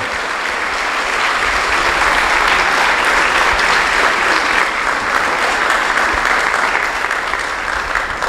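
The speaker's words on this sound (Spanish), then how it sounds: "quiero que le demos un aplauso al Señor" Sustained applause fills a school assembly hall during a birthday celebration, a dense steady clatter of many hands clapping at once with no break across the whole stretch.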